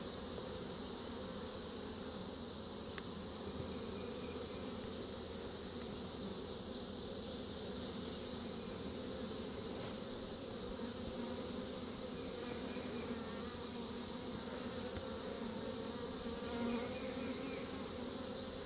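Honeybees swarm around an opened hive during a hive check, a dense, steady buzzing that fills the scene continuously and close by, with individual bees droning past, no voices.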